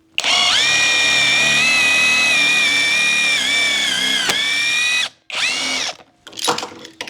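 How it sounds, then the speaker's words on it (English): A Kreg Ionic Drive 20-volt impact driver with a 1/4 inch chuck spins up to full speed and drills pocket holes, a loud, steady high-pitched whine for about five seconds, then two shorter bursts as it plunges in again. "the Kreg Ionic Drive 20-volt impact driver, 1/4 inch"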